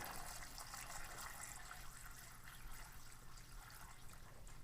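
Cleaning solution pouring steadily into an ultrasonic cleaner used for greasy plastic parts of a 1962 United Embassy shuffle alley machine, a soft continuous liquid gush and trickle lasting several seconds.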